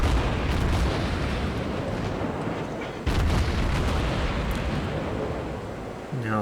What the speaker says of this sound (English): the Mogami, like many other ships, got new gun sounds with one of the more recent patches, and they sound pretty great